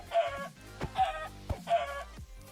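Three rhythmic bursts of Minecraft chicken clucking, close and clear, with soft thuds and shuffling sounds in between.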